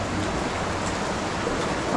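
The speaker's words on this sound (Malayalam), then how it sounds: "മേളിൽ നിന്നുള്ള വെള്ളങ്ങൾ ഒലിച്ചൊലിച്ച് വീഴുന്ന സ്ഥലമാണ്" Steady broadband splashing and pattering of water trickling down from above beneath a bridge, like a continuous trickle or drip onto a hard surface, with no speech.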